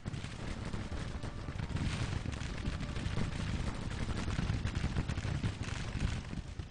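Dense, continuous battlefield din of musket volleys and booming artillery in Grand Tactician: The Civil War, as Union troops are cut down crossing a bridge; a steady rumbling roar of overlapping shots with no clear gaps.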